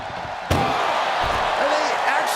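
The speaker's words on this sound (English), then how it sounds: "Doing their best just to shut that first door." An ambulance door slams shut during a WWE Raw ambulance match, one loud sharp bang followed by continuous crowd noise and a commentator talking throughout.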